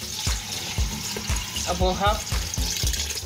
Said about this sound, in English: milliliters of water to the rice for it to boil.